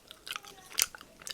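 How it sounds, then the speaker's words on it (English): Crunchy Play-Doh slime squeezed and pressed by hand, a few soft, close crackling crunches in short irregular bursts, quiet with no talking. "Play-Doh slime. It's supposed to have a crunchy sound to it."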